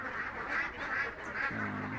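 Ducks kept alongside a fish-farming pond in Nageshwari, Kurigram, give a few brief, rough quacks over soft outdoor background noise.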